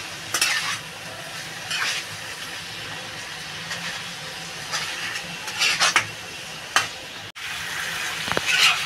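Chicken frying in a pan with kohlrabi-style Bengali spices, stirred repeatedly with a utensil: steady close sizzle broken by scraping stirs and occasional metallic clinks, no voices.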